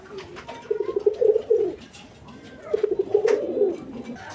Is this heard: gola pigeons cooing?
yes